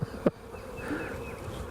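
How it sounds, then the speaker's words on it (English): Honeybees hum around an open beehive, a close, steady buzz with a couple of brief bumps near the start. "You might say she's a busy bee."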